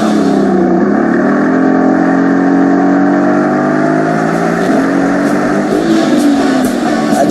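A Mercedes 300SL engine revs loudly and steadily up close, its pitch climbing and then dropping at each gear change during a drive over hilly road.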